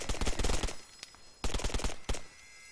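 Rapid bursts of automatic gunfire from the ARMA 3 military shooter, heard as two longer volleys with short single cracks between them, close and fairly loud, with no talking.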